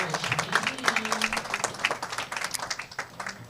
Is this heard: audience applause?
yes